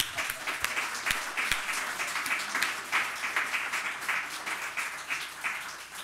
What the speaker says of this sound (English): give a big hand of applause to this panel